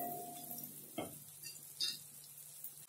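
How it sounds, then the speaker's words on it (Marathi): Masala roasting on a low flame for spicy chicken curry, with a few soft spoon scrapes and stirs over a faint, quiet sizzle, brief and close. "आता हा मसाला कमी फ्लेमवरती आपण चांगला भाजून घेऊया"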